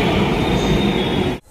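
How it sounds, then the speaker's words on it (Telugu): A Hyderabad metro train arriving at a station, a loud close rumbling roar with a faint high whine that holds steady, then cuts off abruptly. "అదిగోండి మా మెట్రో వచ్చేస్తుంది."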